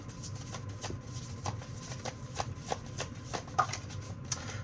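A deck of tarot cards is shuffled close up, with a steady run of crisp riffling snaps and soft slaps repeating throughout at moderate volume.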